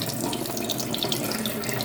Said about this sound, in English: put the lid on it and pour all the water out